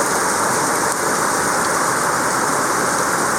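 Steady, dense rainfall in Baguio, a loud, continuous hiss with no breaks or distinct drops standing out, heard alone without voices.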